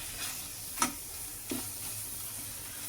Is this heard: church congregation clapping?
no